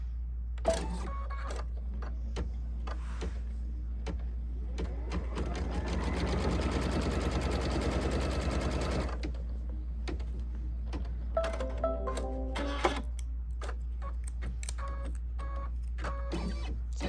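An embroidery machine stitching fabric pieces for a pineapple crossbody bag, a rapid mechanical run of stitching with a steady low hum underneath, framed by clicks, beeps and small handling taps.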